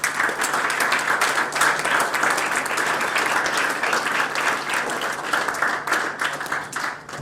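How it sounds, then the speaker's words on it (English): An awards-night audience claps steadily for several seconds, a dense, even wash of applause with no voices standing out. "So can we have a big round of applause for Gavin J."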